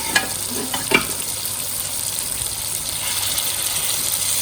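Boiled mutton pieces hit a hot karahi and fry in oil, a steady close sizzle with a few sharp spatters and stirring clatters near the start, then continuous crackling hiss.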